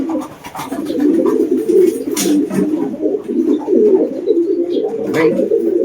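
A pigeon coos while held in the hand, a continuous low, throaty burbling that swells and dips, close and clear, with faint handling rustles.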